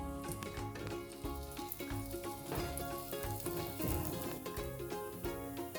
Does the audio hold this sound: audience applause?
no